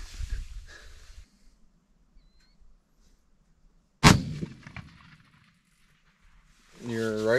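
A single sharp, loud crack of a 6.5 rifle at a deer-season sighting-in session, preceded by quiet outdoor stillness and followed by low talk and ambient noise.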